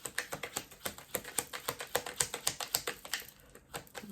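A deck of tarot cards being shuffled, giving a rapid, even run of crisp riffling taps that thin out briefly near the end, heard alone and close.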